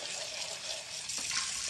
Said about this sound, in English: let's pour that down the sink here.